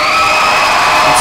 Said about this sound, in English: The crowd is going wild for Danelle Wittenberg.